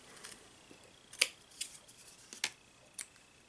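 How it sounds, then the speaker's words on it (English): Scissors trimming craft material up close, a few sharp isolated snips spaced apart over quiet background. "I'm going to go ahead and trim that off right now"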